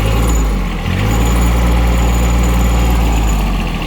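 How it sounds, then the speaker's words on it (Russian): A freshly started, still-cold Kubota Aste A13 compact tractor engine idles loudly and close, a steady low diesel rumble with constant vibration throughout. "Видим, тракторец еще не прогрелся, только запустили."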